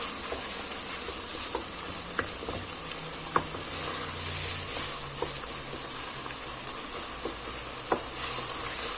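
Garlic-ginger paste frying in a pan for keema, giving a continuous close sizzle and hiss broken by scattered light clicks of stirring; no voices.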